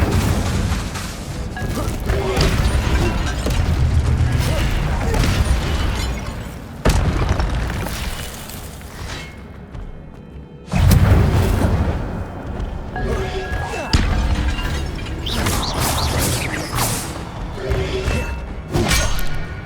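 The Incendio fire spell is cast in Hogwarts Legacy, giving loud, dense booming fire bursts with a brief drop in the middle before the roaring blasts resume, mixed with game sounds and some voices.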